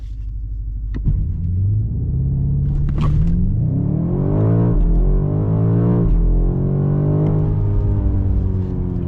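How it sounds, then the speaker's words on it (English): 2025 BMW M5 with a 727 hp V8 doing a launch-control start, heard from inside: a held idle burble, then a loud surging engine roar climbing through several gear changes, each shift briefly dropping the pitch. "Let me do a launch control for you here."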